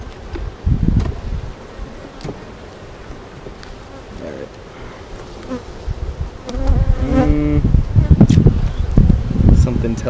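Honeybees buzz around an outside hive frame being inspected, a close, dense drone with rustling handling noise and louder bursts in the second half.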